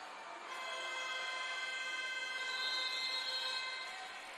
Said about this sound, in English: There's the hooter.